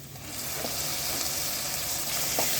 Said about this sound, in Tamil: இது நல்லா வதக்கிக்கலாம். பார்த்தீங்கன்னா இஞ்சி பூண்டு பேஸ்ட்டும் நல்லா வதங்கிருச்சு.